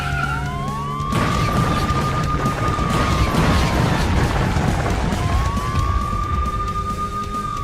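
Police car siren in an animated cartoon, a loud wailing tone rising and falling in long sweeps over a dense noisy backdrop of crashing and rumble, starting abruptly after a second.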